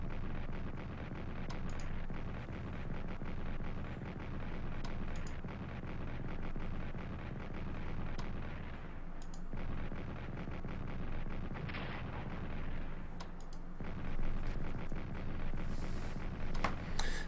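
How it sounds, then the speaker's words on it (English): Artillery bombardment in the strategy game Strategic Command: World War I, a continuous rumble of booming shell fire and gunshots that runs steadily throughout, fairly faint and with no talk. "But let's do some bombing down here."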